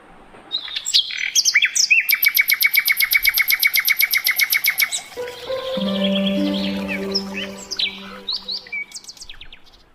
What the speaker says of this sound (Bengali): এই পাখিটির বাংলা নাম ল্যাঞ্জা লাটোরা বা কসাই পাখি